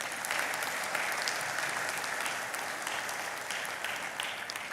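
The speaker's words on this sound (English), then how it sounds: "Please join me in applauding them." A graduation audience applauds the staff at a business school executive programmes ceremony, a dense, even wash of many hands clapping that holds steady for several seconds.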